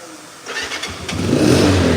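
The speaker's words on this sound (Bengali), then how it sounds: "সাউন্ডটা দেখছেন দরার সাথে সাথে স্টার্ট" A yellow motorcycle's engine cranks and catches after a quiet start, then settles into a loud, rising close-up idle that grows steadily stronger.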